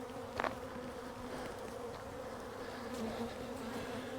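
Honeybees returning to a hive with pollen make a continuous, steady close buzzing drone, with individual bees whizzing past the microphone now and then.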